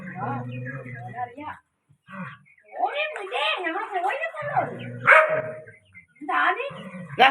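A dog barks, yips and whimpers in a rough outdoor fight with a monitor lizard, loud and close, the bursts coming in irregular clusters with short gaps, while people shout over the commotion.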